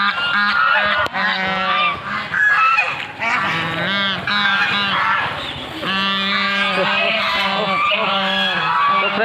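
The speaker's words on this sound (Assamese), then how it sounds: "আপোনালোকে চাওক ইয়াতে হাঁহ, কি সুন্দৰ সুন্দৰ হাঁহ" Domestic geese at a temple pond in Nalbari honk loudly and constantly, many harsh overlapping calls stacking up close by with hardly a pause.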